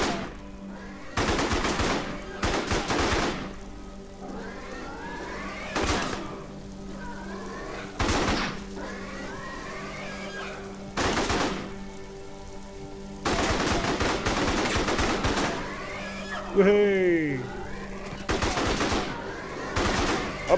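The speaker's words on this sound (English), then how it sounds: "It's like an automatic sniper rifle." Automatic sniper rifle fire in the video game Starforge, loud bursts of rapid shots repeating in clusters across the clip, with a rising synthetic whine partway through and a steady background hum between volleys.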